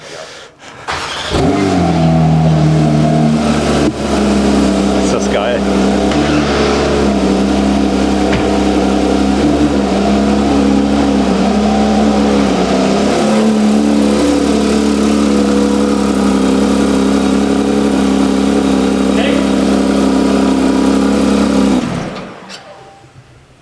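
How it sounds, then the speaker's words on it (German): A Porsche 911 GT3 (992) engine fires up close by and runs with a deep, steady rumble for about twenty seconds before cutting off; someone briefly speaks. "deswegen werden wir das jetzt mal riskieren, mal kurz den Motor anzumachen"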